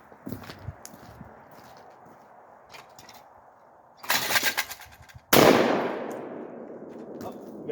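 Lynx 12 shotgun fired at clay targets outdoors, with two loud blasts a second apart, the second followed by a long fading echo, after a quieter stretch of low rustling.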